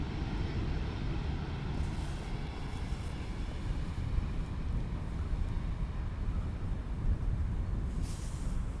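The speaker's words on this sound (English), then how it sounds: "Another baby Airbus" A compact Airbus airliner lands on runway 18R at Amsterdam Schiphol, heard as a steady low, rumbling engine roar with wind buffeting, continuous and moderately loud, no voices.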